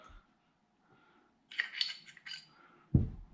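Metal parts of a CZ Shadow 2 pistol being handled as the recoil spring and guide rod come out, a few close light metallic clinks and scrapes, then a louder knock near the end.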